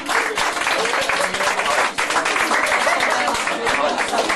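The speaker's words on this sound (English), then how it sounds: "please give them a huge round of applause" A large audience at a British comedy stage hypnosis show applauds special guests, a dense, steady roar of clapping that stays loud and close throughout, with only a brief dip partway through.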